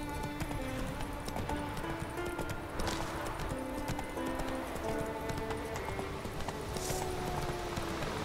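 Roach the horse galloping in The Witcher 3 makes a steady, rhythmic clip-clop of hooves that runs the whole time over faint game music, with a snort or whinny-like accent partway through.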